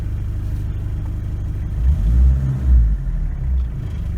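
A 1986 Ford Escort diesel wagon driving on a short spin around the block, with a steady low engine rumble inside the cabin that swells twice as it accelerates.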